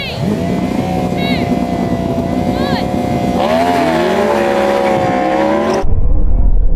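Ferrari SF90, Porsche Taycan Turbo GT and Yamaha R1M launch side by side in a drag race, with a loud sustained engine drone whose rising pitch sweeps upward and then cuts off abruptly, heard up close.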